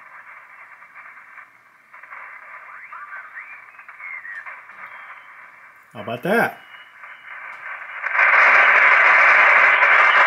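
A vintage Drake TR-3 ham radio transceiver hisses with band-limited static as it is tuned, with faint whistling carriers sliding by, a brief burst of voice, then louder rushing noise; someone speaks briefly.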